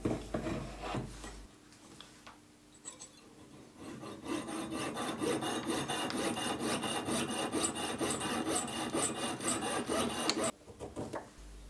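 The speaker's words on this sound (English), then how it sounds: "cut a piece of 4 millimeter silver tube and then solder it to the 2 millimeter round silver wire" A fine jeweller's saw cuts through 4 millimeter silver tube in rapid, even back-and-forth strokes, close up. A few tentative scrapes come first, then sustained sawing for several seconds before it stops.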